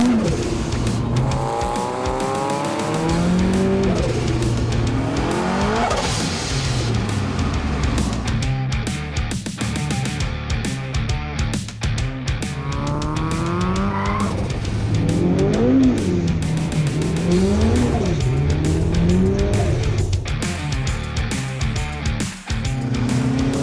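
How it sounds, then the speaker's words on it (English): A Datsun car doing a burnout, its engine revving hard in rising and falling sweeps over a constant roar of tires squealing against the pavement, loud and close for the whole stretch. "when I do them both together, that's burnout"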